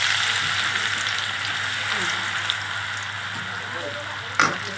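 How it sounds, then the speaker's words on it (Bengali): Shredded potatoes deep-fry in hot oil on a full flame, a loud, dense sizzle that runs continuously with a brief clatter near the end. "এটা একদম পুরো ফুল উনুনটা পুরো ফুল দিয়ে ভাজতে হবে"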